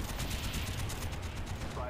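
Rapid automatic gunfire in the PC shooter Call of Duty: Black Ops, a dense continuous burst of shots under a faint voice.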